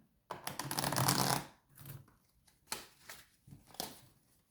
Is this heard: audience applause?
no